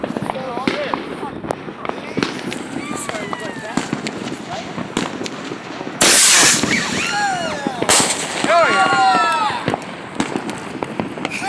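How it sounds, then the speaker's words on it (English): Fireworks going off at a Fourth of July celebration: repeated sharp bangs and crackling bursts with whistling rising tones, loudest around the middle, while people talk and call out throughout. "Here we are, shooting off fireworks."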